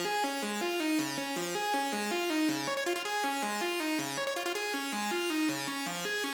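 A repeating plucky synth lead pattern for a hyperpop beat loops a one-bar melody of short bright notes in steady rhythm, loud and continuous without any voice.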